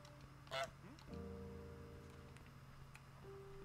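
A goose honking in Untitled Goose Game, one short nasal honk early on, then sustained game background tones that hold under the rest of the clip.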